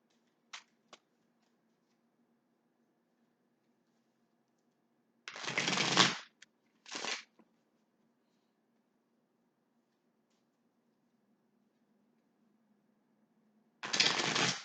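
Tarot cards shuffled by hand in a quiet room, heard as two short riffling bursts near the middle and another at the end, close and crisp, with a few soft taps at the start.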